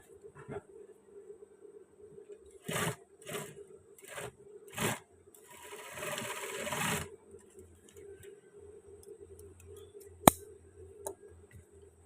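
A sewing machine stitches a trouser waistband in short bursts, several brief runs and one longer whirring run, close up with quiet pauses and a sharp click near the end.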